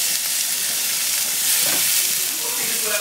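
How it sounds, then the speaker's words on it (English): Minced garlic fries in a pan with a steady, loud, close sizzle that hisses continuously throughout, with faint stirring movements underneath. "Add your minced garlic."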